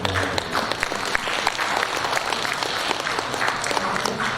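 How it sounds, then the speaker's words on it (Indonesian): Audience at a hospital association national working meeting (conference) applauding a speaker, a steady burst of dense clapping from a large hall crowd lasting the whole stretch. "itu kita berikan aplaus kepada Ibu"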